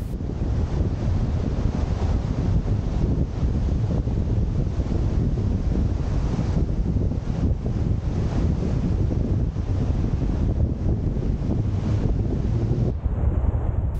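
Strong onshore wind roars steadily across the microphone with surf churning underneath at rock armour groynes on Cardigan Bay, loud and constant throughout, no voices.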